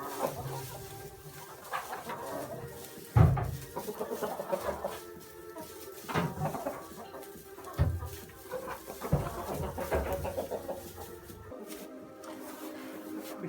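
Chickens clucking inside a coop, scattered close clucks and squawks rising and falling over a rustling barn background, with a few louder bumps and flutters mixed in.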